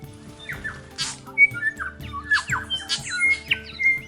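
Wild birds on the Otago Peninsula in New Zealand give clear, nearby whistles, chirps and squawks in overlapping bursts, with a low background hum underneath.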